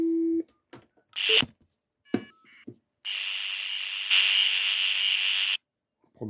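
A 1980s telecom technician's test phone dials with short tone bursts and clicks, then gives a long steady line tone, heard close and alone.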